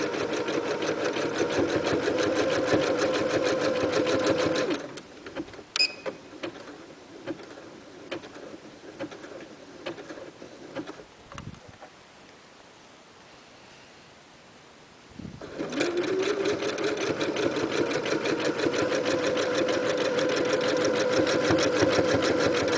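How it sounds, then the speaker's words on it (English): A sewing machine runs a zigzag stitch around sweatpants, a loud steady mechanical whir that stops for several seconds in the middle and then starts up again. "sewed it all the way around in the zigzag stitch"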